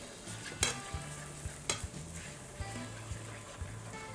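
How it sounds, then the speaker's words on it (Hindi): Spices stirred and frying in a pan for a shahi malai kofta gravy, a steady close sizzle with a few sharp scrapes and clinks of the spoon. "मसालों को 1-2 बार चला लें, ज़्यादा भूनने की ज़रूरत नहीं है।"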